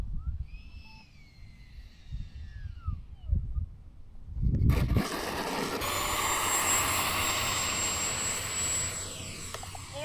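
A Raptor 70mm RC jet on its maiden flight at Fritz Field spools up with an abrupt rising roar that settles into a steady, loud turbine whine with a high tone; faint bird-like chirps come before it.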